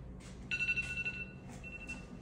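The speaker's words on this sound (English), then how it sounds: "The timer does work better because it'll keep going off until you find your phone" A Siri-set timer alarm goes off on an iPhone, a short bright electronic tone pattern sounding twice in quick succession, faint and close with little else around it.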